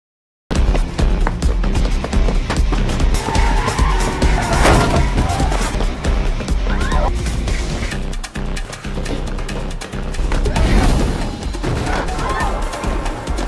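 Loud, dense car-chase action from a film: engines roar and tires skid and squeal continuously, with crashes and impacts mixed through the sequence.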